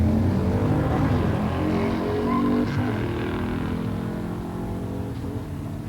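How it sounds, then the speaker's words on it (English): A 1969 Camaro 427 ZL1 with a four-speed and a 1970 Mustang Cobra Jet 428 automatic run a pure-stock drag race, a loud, steady, throaty engine roar that fades slightly toward the end. "In the far lane, Rusty Sims, 69 Camaro 427 ZL1 4-speed"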